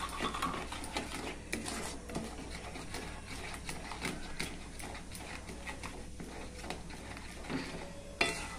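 Sugar is stirred into homemade jam cooking in a pan: quiet, irregular spoon scrapes and taps over a soft bubbling sizzle, with no talking.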